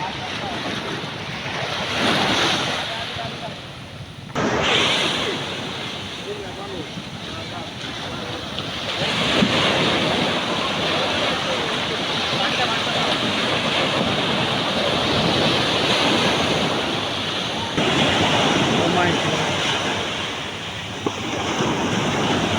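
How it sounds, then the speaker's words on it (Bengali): Loud, continuous roar of large ocean waves surging and crashing at Cox's Bazar beach at night, mixed with strong wind buffeting the microphone, with brief lulls between swells. "বিশাল বড় বড় ঢেউ আসতেছে"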